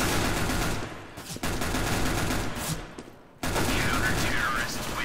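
An enemy player's gun fires in the video game Overwatch: rapid bursts of loud automatic shots broken by two short pauses, with a voice talking underneath.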